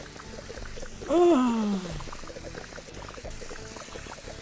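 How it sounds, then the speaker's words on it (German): A garden hose pours a brief, splashing stream of water in the Fresh Start Cleaning Simulator video game, rising and falling over about a second amid quiet background sounds, with a short spoken exclamation. "Jetzt müssen wir nur den ganzen Kram hier gießen."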